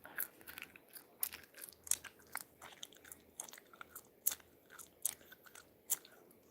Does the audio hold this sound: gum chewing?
yes